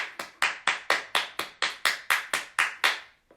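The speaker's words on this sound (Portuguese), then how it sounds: "É como bater palma." A single person clapping hands, about twelve crisp, close claps in a quick, steady rhythm that stop abruptly after roughly three seconds.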